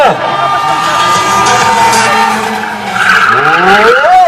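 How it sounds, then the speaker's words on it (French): Monster truck launched at full throttle from the end of a track, with loud tire squeal and engine roar rising and falling, a crowd audible behind, and voices talking over it. "On démarre le véhicule au maximum."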